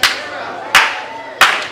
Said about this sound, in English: The crowd getting in this match, trying to get Perera back into this thing.